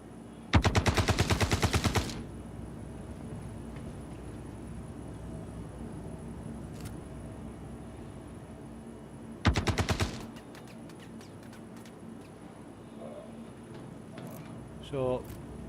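Two long bursts of rapid automatic gunfire rattle out in the video game Star Citizen, the first lasting about a second and a half, the second shorter, with quieter game ambience and scattered clicks between them.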